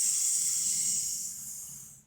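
A voice imitates acid sizzling as it drops onto a couch, producing a steady, close, breathy hiss that holds for about two seconds before cutting off.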